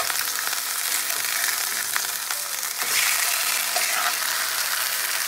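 Salmon fillets sear in a hot pan with a steady, bright sizzle and crackle, one brief shuffle partway through, no voices over the frying.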